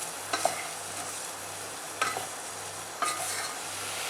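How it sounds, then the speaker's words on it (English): Prawns being stirred in a pan with pepper, chili powder, turmeric and salt, three distinct scraping strokes of the utensil over a soft steady sizzle, close and alone without voices. "Now I'm going to mix everything."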